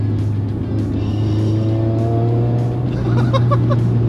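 Turbocharged Subaru BRZ making about 400 horsepower heard from inside the cabin while driving and short-shifting, a loud continuous engine drone with rising revs and a brief chirping whistle near the end.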